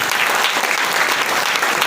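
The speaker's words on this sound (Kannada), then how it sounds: "ಎಲ್ಲ ಜೋರಾಗಿ ಚಪ್ಪಾಳೆ ಹೊಡೆಯಿರಿ" A church congregation at a Sunday service claps loudly, dense, steady applause from many hands filling the whole brief moment.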